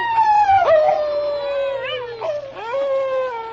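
A man imitates a wolf howling, a long sliding vocal howl that falls in pitch, breaks briefly, then rises into a second drawn-out howl, loud and close with no other talk.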